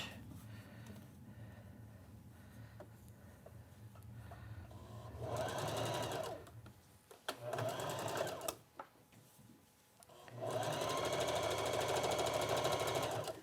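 Sewing machine running a zigzag stitch to enclose elastic along the hem of a knit boatneck top, in several bursts of rapid mechanical stitching separated by short pauses, heard close and fairly quiet.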